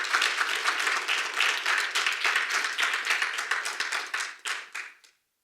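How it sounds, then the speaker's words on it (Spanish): A church congregation at a Spanish-language service claps together in dense, sustained applause that fills the room, then thins to a few scattered claps and stops abruptly near the end. "Dale un aplauso al Señor."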